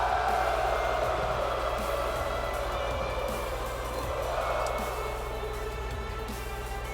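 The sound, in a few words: wrestling crowd singing along to Shinsuke Nakamura's entrance anthem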